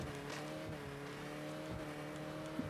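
A car engine in the video game Saints Row drones at a steady, sustained pitch throughout, moderately loud and close, with a brief sharp knock near the end.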